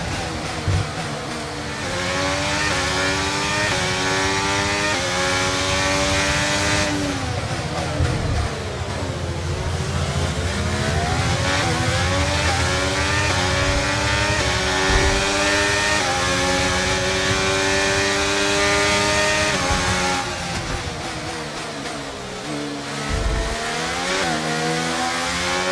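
Race car engine from the F1 game Braking Point 2 on a fast lap, screaming loud and close with steady high-revving pitch sweeps through gear changes and brief dips under braking, running without a break.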